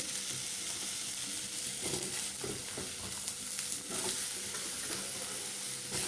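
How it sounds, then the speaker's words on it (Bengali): Brinjal pieces frying and being stirred in a pan with already-fried potato and onion for a brinjal curry, a continuous close sizzle with soft stirring scrapes and no talking. "এবার আমি বেগুনগুলো দিয়ে দেবো এর মধ্যে"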